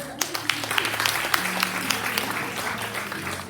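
Audience in a church service clapping for a woman named Anne, a dense, steady patter of many hands lasting a few seconds, with voices murmuring underneath.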